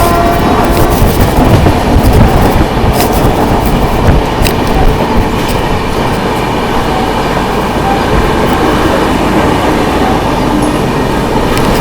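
The 12190 Mahakaushal Express passenger train running out of Dholpur toward the Chambal valley, a loud continuous rumble with rhythmic clickety-clack of wheels over rail joints and occasional sharp clanks, heard alone without talk.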